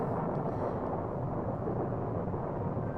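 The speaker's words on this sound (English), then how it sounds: "the sound effects of the thunder is just reminding me of the last time I tried to stream this movie last week" Thunder sound effect in a 1966 horror film, a dense, continuous low rumble, fairly loud and steady throughout with no talk.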